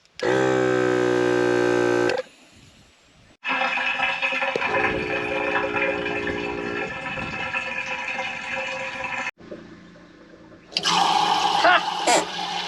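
Water is forced out of a tank on an off-road expedition vehicle by compressed air. A harmonic whine gives way to loud rushing, sputtering bursts of water, broken by short pauses.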